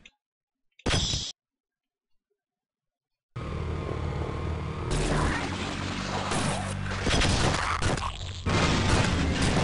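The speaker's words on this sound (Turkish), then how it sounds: "Patladı." An explosion goes off in the video game Half-Life: a short burst, then silence, then a loud sustained rumbling blast with crashing debris that keeps roaring.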